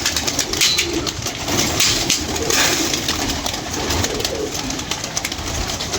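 Newly trained pigeons kept at a pigeon fancier's loft, soft repeated cooing from several birds nearby over a busy outdoor background, continuing throughout.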